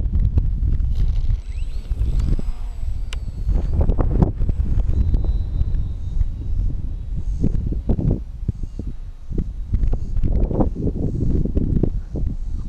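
Wind buffeting an outdoor microphone during an evening RC Carbon Cub S2 flight, a loud, continuous low rumble with gusty swells throughout.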